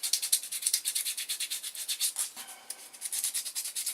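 Hand sanding on a hard copied fishing lure makes quick, rhythmic rasping strokes, about four per second, close and fairly soft, with no voices.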